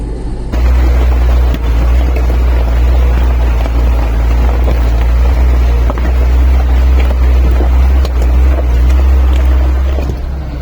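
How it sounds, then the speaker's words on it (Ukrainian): A LuAZ off-road vehicle climbs a steep grade in the Carpathians in low gear with the front differential locked, its engine a loud, steady low drone with wind buffeting throughout and no voices. "Це підйом на пониженій передачі з передньою блокировкою."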